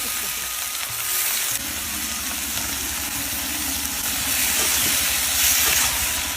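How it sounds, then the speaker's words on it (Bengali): Pieces of eggplant fry in oil with a loud, steady hissing sizzle heard close up, plus a low rumbling hum underneath, rising a little toward the end. "বেগুনগুলো ভেজে নেই"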